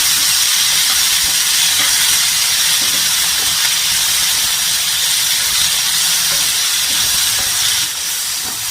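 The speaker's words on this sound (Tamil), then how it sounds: "நான் மூணு பெரிய தக்காளி கட் பண்ணி வச்சுருக்கேன் நீள கட் பண்ணி வச்சுருக்கேன் இதையும் நல்லா வதக்கிடலாம்" Long-cut large tomatoes sauté in a pan for a mushroom gravy, a loud unbroken hissing sizzle that holds steady throughout before easing slightly at the very end.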